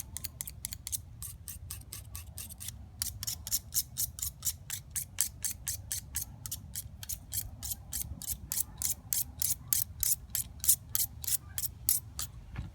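A knife blade is pulled through an electric knife sharpener's grinder, making a long run of fast, evenly spaced rasping clicks. There is a brief gap early on, then a steady rhythm close up.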